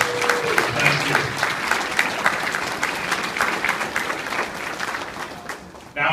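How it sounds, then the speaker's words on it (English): Audience applause at a Marine Corps birthday ball fills the room, a steady dense wash of clapping that holds for several seconds before fading slightly near the end. "So a big round of applause for all the ceremony folks."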